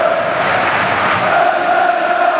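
A football stadium crowd at a Premier League match, Manchester United against Arsenal, makes a steady broad roar that holds at an even level throughout without any clear peak.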